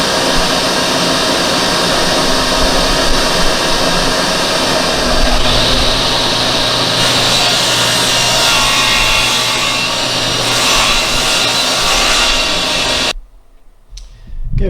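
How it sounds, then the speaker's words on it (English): A saw cuts oak and exterior plywood boards to 30-inch lengths, a loud, steady rasping whine that runs unbroken for about thirteen seconds before it abruptly stops. "I'll take an oak example and the exterior plywood and cut them to 30 inches."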